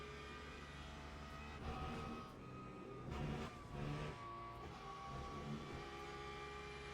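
A Porsche race car engine in the Le Mans Ultimate racing game at Spa drones steadily, with rising and falling revs and a few gear-change surges, fairly quiet and alone.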